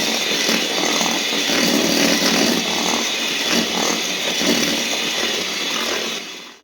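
An electric hand mixer beats sugar for a vanilla blueberry sponge cake batter, a loud, steady high-pitched motor whine with a gritty churning texture running unbroken for several seconds before cutting off at the end.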